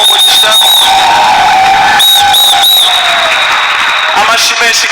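A church congregation at a Rwandan gospel service claps and cheers loudly and continuously, with shrill whistles and voices mixed into a dense, close crowd roar.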